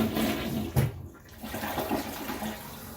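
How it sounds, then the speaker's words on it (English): A toilet flushes once after being cleaned with a vinegar-based all-purpose cleaner: a short, close rush of water that surges and then drains away within a few seconds, with no talking. "or I can flush."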